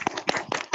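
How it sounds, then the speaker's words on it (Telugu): An audience claps for Deepak sir at a motivational talk, a short burst of several sharp, close hand claps in an uneven rhythm, with no voices over it. "మీరు ఎక్కడ కూర్చారు అక్కడే ఒక క్లాప్ కొట్టండి దీపక్ సార్ కోసం."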